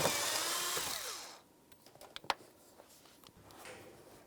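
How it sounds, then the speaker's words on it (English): A 7mm-headed bolt holding the blower motor wiring harness is removed beneath the dash of a 2004-2015 Nissan Titan. A short whir of tool noise gives way to scattered sharp metallic clicks and taps, close and moderately loud. "Remove that bolt."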